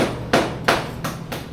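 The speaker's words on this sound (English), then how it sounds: "a jackhammer in the Philippines is a nail through a piece of PVC pipe and you hit it with a hammer" A hammer strikes a nail pushed through a piece of PVC pipe, used as a makeshift jackhammer at a new house; four sharp, evenly spaced impacts ring out close and loud with no talk.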